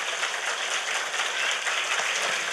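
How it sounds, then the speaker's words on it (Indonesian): An audience at a mosque gathering gives dense, continuous applause that fills the whole moment, steady and fairly loud, with no voices rising above it. "Tepuk tangan dulu dong buat panitianya"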